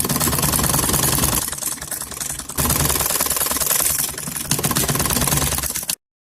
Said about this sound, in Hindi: अब मैं इस पर सिलाई लगाऊंगी।